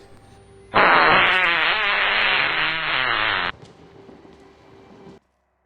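A long, loud fart sound effect in a Ukrainian fan dub of the Outlast video game, a sustained buzzing blast of about three seconds followed by a quieter hum.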